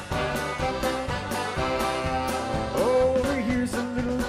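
A polka recording plays steadily: bouncy band music with a regular oom-pah beat and a melody line, full and continuous with no talk.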